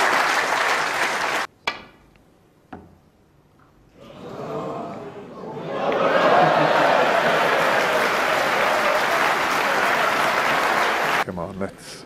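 Audience applause at a snooker match, a loud sustained burst of clapping from the crowd that swells after a brief lull and carries on for several seconds before cutting off.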